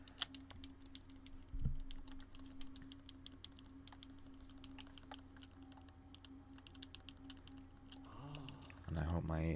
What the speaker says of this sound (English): I hope my controller spamming is not that loud.